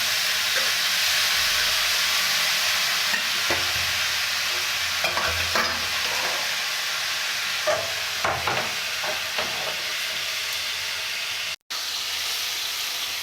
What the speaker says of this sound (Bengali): ফুলকপি আলুটা ভাজা ভাজা হয়ে গেছে ওর মধ্যেই এই যে জিরে আদা ধনে বাটাটা গোলমরিচ দিয়ে দিলাম